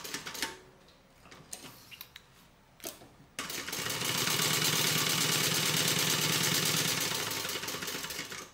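Sewing machine basting around a tote bag pocket: a few soft handling clicks and taps, then a fast steady whirring stitch run starts abruptly and continues, near and fairly loud.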